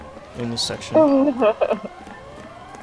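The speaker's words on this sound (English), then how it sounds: "the fucking siren that's going on in the background is so annoying" An emergency siren wails faintly in the background while someone talks over it, its tone rising and falling beneath the voice.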